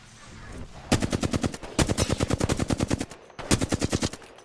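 Rapid automatic gunfire in Apex Legends, loud and close, coming in three sustained bursts of evenly spaced shots with short pauses between them.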